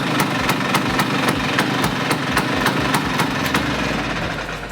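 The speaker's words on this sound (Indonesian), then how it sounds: "kalau zaman bokap lu zaman dulu, pasti sukanya kan zaman dulu Vespa ini nyalain kayak gini nih" A classic Vespa scooter engine, kick-started, runs with a loud, steady rapid popping beat of regular exhaust pulses, close up and without any talking.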